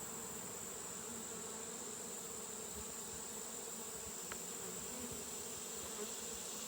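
Honey bees hum in a dense, continuous, fairly faint buzz around an open Layens hive outdoors. No voices are heard.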